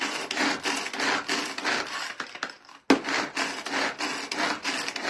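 A knife finely chopping an onion on a cutting board, with dense, steady rapid chopping and scraping strokes throughout, a brief pause near the middle, close and fairly loud.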